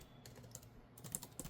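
Keys clatter on an AliExpress Magic Keyboard-compatible keyboard with pogo-pin connection attached to an iPad Pro M4 13-inch, a short, quiet burst of irregular clicking taps.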